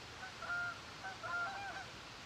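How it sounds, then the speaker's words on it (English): A flock of Canada geese honks faintly while flying over, in two short clusters of calls. A low steady background noise runs underneath. "That's the geese. Some people call them Canadian geese."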